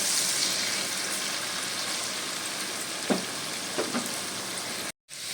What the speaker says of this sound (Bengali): এটাকে এবার আমি একটু কড়া কড়া করে ভেজে নিচ্ছি